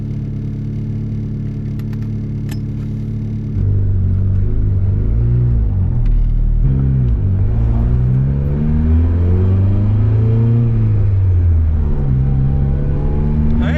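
A car with a built single-cam engine running 30 psi boost idles, then pulls away, the engine revving up and down through several gear changes, loud and close inside the cabin.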